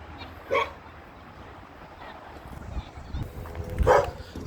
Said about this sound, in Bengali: যে কুকুর ডাকে